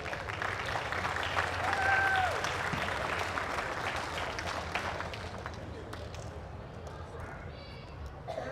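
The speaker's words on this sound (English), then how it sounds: "Let's give these kids a round of applause." Applause from an audience at a school district livestock show for sheep and goats. Sustained clapping from a crowd fills the arena and fades slightly toward the end, with no speech over it.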